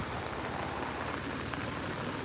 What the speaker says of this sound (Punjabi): ਲਓ ਖੜੇ ਖੜੇ ਤੇ ਮੀਂਹ ਫੇਰ ਤੇਜ਼ ਹੋ ਗਿਆ